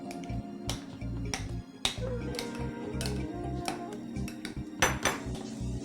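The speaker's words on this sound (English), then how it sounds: "Mix the dry mixture well, then add it to your pumpkin mush." Flour, salt, baking soda, baking powder and cinnamon being mixed for a pumpkin dough: repeated sharp clinks and scrapes of a utensil against a bowl, steady and close, with no talking.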